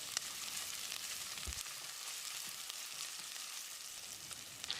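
Steady, close sizzling of crushed garlic and ginger frying in hot oil, with an occasional stir or tap of a utensil against the pan.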